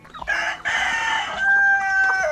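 A rooster crowing on a chicken farm, one loud, close, drawn-out cock-a-doodle-doo with a clucking note at the start, alone without talk.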